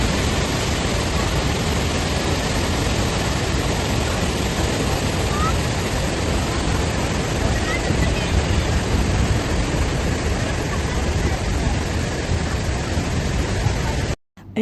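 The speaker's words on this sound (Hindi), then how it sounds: "यहाँ पर ये पानी जो है ना वो थोड़ी सी हाइट से नीचे गिर रहा है और इतने प्रेशर से गिर रहा है" Water falls from a height with great force in Kashmir, a dense, continuous broadband roar that stays loud and steady throughout and cuts off abruptly at the end.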